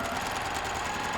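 A sewing machine stitches through quilt block fabric for a Halloween cauldron-and-cat block, running in a steady, continuous mechanical hum at close range with no talking.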